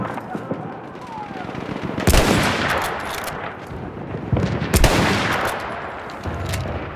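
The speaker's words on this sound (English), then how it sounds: "Machine gun! One of theirs!" Loud machine gun fire in Battlefield 1 multiplayer combat, sustained bursts with heavy explosive-like blasts and crackling gunfire around them, with in-game voices shouting over the battle.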